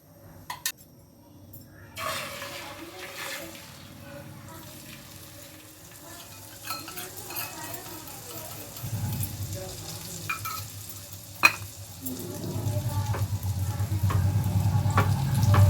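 An egg omelette sizzles in a pan on a home stove, with a steady frying hiss that grows louder toward the end. A utensil scrapes and clinks against the pan now and then, with faint household sounds under it.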